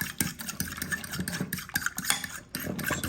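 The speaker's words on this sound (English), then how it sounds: "beat up that egg real good. Just beat it up just like that." A fork beating an egg for French toast, heard as quick, irregular clicking and tapping against the bowl, steady and close up throughout with no talk.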